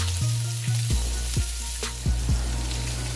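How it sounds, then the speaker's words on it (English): Half a stick of butter melting and sizzling in a hot pan beside crispy-skinned salmon, a loud close frying hiss with several knocks and clanks from a utensil or pan. "Next, I'm going to add a half stick of butter."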